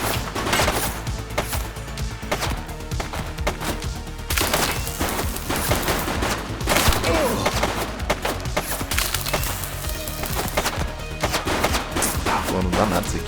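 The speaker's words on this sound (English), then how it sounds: "She's shooting!" Rapid gunfire from the police video game The Precinct, dense overlapping shots and bursts sustained loudly throughout amid game sound and music.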